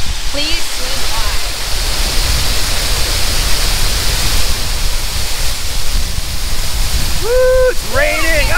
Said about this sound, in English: I'll talk after we go through this amazing waterfall because you won't be able to hear me.